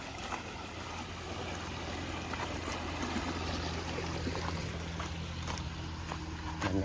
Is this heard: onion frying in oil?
no